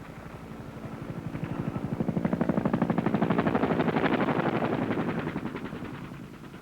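AH-1 Cobra attack helicopters circle above a landing zone, their rapid rotor thumping swelling louder then easing off, with steady rhythmic chopping and mechanical whine filling the scene, no voices present.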